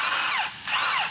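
A power tool whirs loudly up close while removing the tie rod nut on a turbo Jeep Wrangler's front end, with a short dip in pitch midway before spinning back up.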